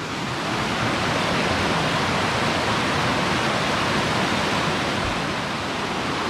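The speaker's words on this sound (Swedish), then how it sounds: "vi hittade värsta vattenfallen. Eller bäck som innehåller jättemycket vatten" A roadside stream swollen with snowmelt rushes in a steady, loud, dense roar of water that stays constant throughout, with no voices over it.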